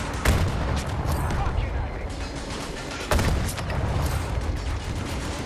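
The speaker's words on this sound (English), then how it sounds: "It's just a machine gun." Machine gun fire in Battlefield 2042, loud and continuous with heavy booming bursts in a thick wash of battle noise, with a voice faintly underneath.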